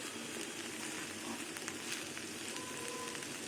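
Beans, potatoes and onion leaves fry in a pan with a steady, dense sizzle and crackle that holds evenly throughout, close and alone with no voices.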